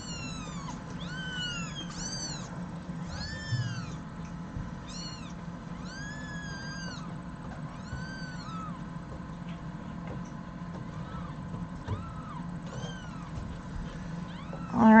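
Several kittens from a litter of five meow repeatedly in high, rising calls over a steady low room hum, the cries overlapping close by throughout.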